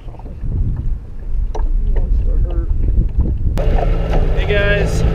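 A small fishing boat sits out on the water near docks, with steady wind buffeting the microphone and a broad, continuous rumble throughout, joined by a brighter tonal whine in the final seconds.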